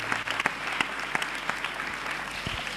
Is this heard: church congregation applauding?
yes